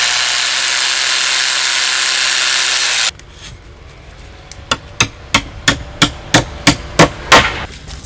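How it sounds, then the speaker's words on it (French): A power drill whines steadily for about three seconds while boring into a wall for siding, then after a short pause a hammer drives a strike anchor home with nine evenly spaced, sharp blows that grow slightly quicker. "je vais faire mon trou avant de mettre ma cheville à frapper"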